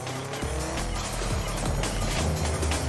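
Car in the Forza Horizon 4 racing game cornering hard, played with a PXN V3II steering wheel, its engine droning steadily while tires squeal through the turn, loud and continuous with no talk.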